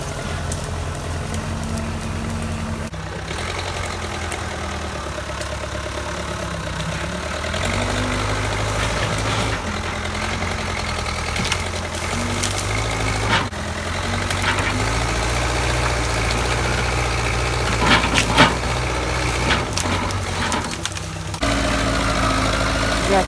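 A tractor fitted with a bucket sits running at a farm pond, its engine a steady low idle with shifts in load and pitch throughout, close and continuous.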